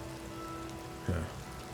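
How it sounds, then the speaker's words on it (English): Steady rain patters across the open world of the video game Oblivion Remastered, a soft continuous hiss that runs throughout, with a brief low thump partway through. "Still raining."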